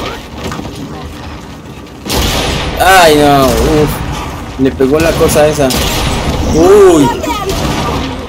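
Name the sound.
gunfire in Gears of War 4 video game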